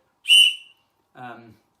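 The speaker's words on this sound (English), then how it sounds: "It also has an SOS whistle" An SOS whistle built into a Lumo light on a carabiner gives one short, shrill, piercing blast at close range, followed after a pause by a softer, lower-pitched breathy toot; nothing else is heard around them.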